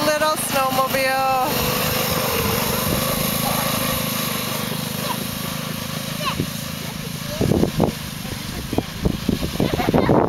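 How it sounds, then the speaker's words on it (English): A small Polaris snowmobile with a six-year-old rider runs nearby with a steady buzzing engine drone, while adults talk and cheer over it. "This is Claire riding a snowmobile, a little snowmobile."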